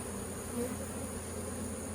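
Angry honey bees swarm around a hive box as frames are moved, their dense buzzing holding close and even throughout.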